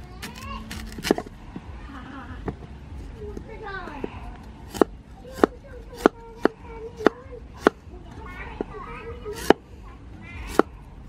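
A knife chops galangal on a cutting board in a home kitchen, giving a run of sharp, separate thuds at an uneven pace, close and clear over a quiet background.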